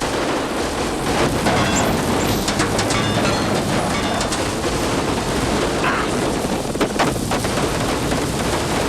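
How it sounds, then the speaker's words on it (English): Sustained battle din of gunfire in a film action scene, dense loud bursts and booms filling the whole stretch without pause, with no talk over it. "Open fire!"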